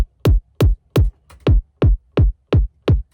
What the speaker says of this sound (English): I had the short thumpy kick that I use in most of my older tracks.